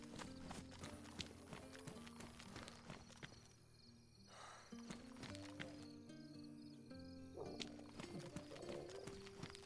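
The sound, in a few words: animal footsteps, elk or cow, in video game DayZ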